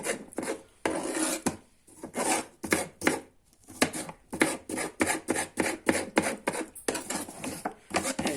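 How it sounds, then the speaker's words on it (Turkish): Rapid rhythmic chopping of peeled cucumbers on a board, dozens of quick knife strokes in bursts with short pauses, close and crisp. "Doğrama işlemi bitti."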